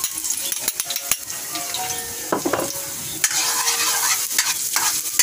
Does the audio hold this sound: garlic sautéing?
yes